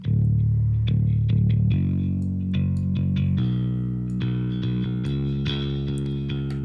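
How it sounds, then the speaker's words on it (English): An Ample Metal Ray 5 virtual bass guitar on a default preset plays a distorted, steady riff of low sustained notes with quick changes, loud and up front with no other instruments. "It's a bass guitar, and for bass I use the Ample Metal Ray 5 with a default preset"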